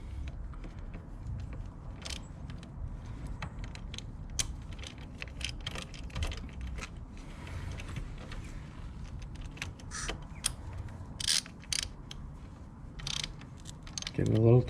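A hand ratchet snugs down the valve cover bolts on a Honda Ruckus scooter. Short clicking bursts come in irregular runs with light metallic handling between them, and a clunk sounds near the end.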